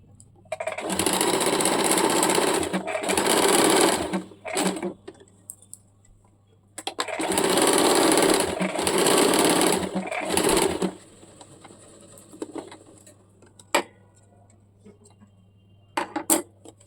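A sewing machine runs in two long bursts of stitching, about four seconds each, on a baby umbrella frock, doing a double seam down through the fabric. Between the bursts come quieter pauses with light clicks and handling.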